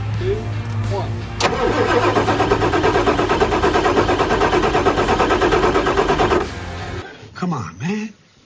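A Ford 7.3 PowerStroke diesel in an OBS truck cranks and fires abruptly, settling into a loud, steady, close clattering run for about five seconds before shutting off, with voices talking afterward.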